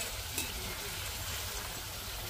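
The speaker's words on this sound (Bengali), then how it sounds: "একদম লাল লাল করে ভেজে নিতে হবে, তাহলে দেখতেও খুব সুন্দর লাগবে আর মুচমুচে হবে" Coated potato and noodle snacks deep-fry in hot oil, a continuous soft bubbling sizzle heard fairly quietly throughout.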